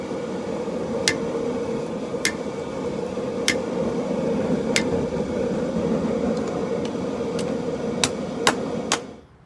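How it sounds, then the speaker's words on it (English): A wooden mallet strikes a steel kris blade being forged from an old file, eight sharp evenly spaced taps over a steady hum of background noise, fairly close and moderately loud. "That's why I'm using the wooden mallet."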